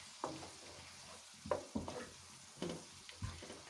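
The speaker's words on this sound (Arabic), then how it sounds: "كنشدو نشحرو حتى كيهبط" Vegetables sauté in a pan with a soft, faint sizzle, punctuated by several quiet stirring knocks and scrapes at uneven intervals, with no talk.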